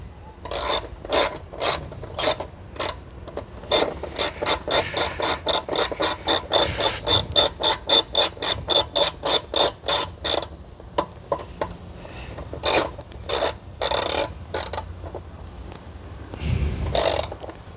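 A hand ratchet tightens the short screw on the fuel tank of a Kawasaki Versys 650 motorcycle. Loud, close clicks come in a fast, even run, then in slower groups with pauses and a scrape at the end.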